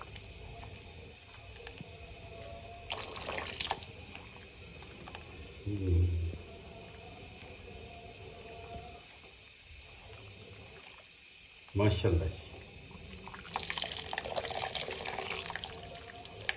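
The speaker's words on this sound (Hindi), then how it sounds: "ये मैंने 1 कप पानी का घोल बनाया था, इसमें मैंने 8 से 10 चम्मच कॉर्नफ्लोर के डाले थे।" A cornflour slurry, a cup of water thickened with eight to ten spoons of cornflour, is poured a little at a time into chicken vegetable soup and stirred, giving soft splashes and clinking stirs under intermittent talk.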